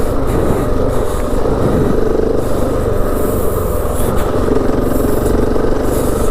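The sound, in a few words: KTM 690 motorcycle riding over desert whoops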